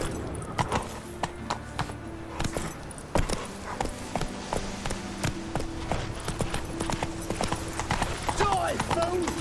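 Horse hooves clip-clopping in a steady rhythm while riding in the video game The Witcher 3, close and fairly loud, with a rider's voice urging the horse on.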